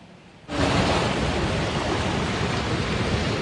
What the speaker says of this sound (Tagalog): Ganito kalakas ang ragasan ng baha sa Del Gallego, Camarines Sur.